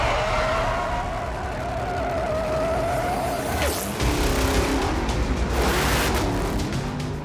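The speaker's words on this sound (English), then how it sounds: "San Antonio Raceway, Texas. Setting for the largest drag race series in the US." Drag racing cars at San Antonio Raceway, Texas, roaring loudly with a sharp tire squeal and a sudden pass around the middle, continuous dense engine noise throughout.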